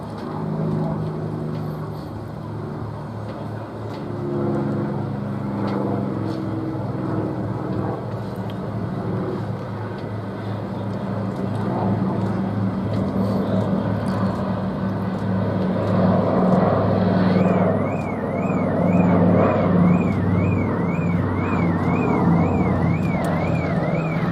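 A PBY-5A Catalina flying boat with wing floats lowered drones past at the Duxford air festival, its piston engines giving a loud, steady hum that swells toward the end, with faint speech underneath.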